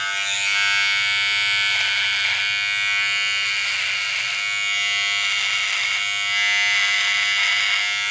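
A Wahl electric beard trimmer runs with a loud, close, steady high buzz that holds throughout with slight wavering as it moves, and no one speaks.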